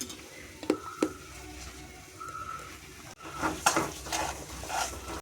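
Ashoka halwa being stirred in a pan: a few sharp scrapes and clinks of a spoon against the pan, scattered over about five seconds, louder toward the end, over soft kitchen background.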